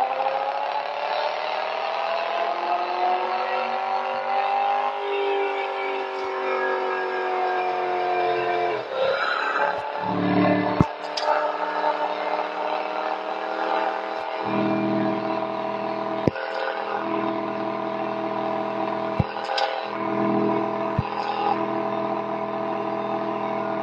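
BMW M3 E46 Coupe engine heard from inside while driving, a steady drone that rises in pitch under acceleration and drops with gear changes, with a few sharp clicks and no talking.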